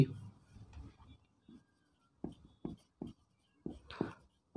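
Pen writing on a board during a Hindi-medium physics lecture, a few short scratchy strokes in quick bursts following a man's speech, close and fairly quiet.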